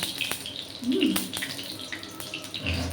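Water is poured into a pan that already holds oil, making a short splashing, gurgling pour close by with a few faint drips and a hint of voice in the background.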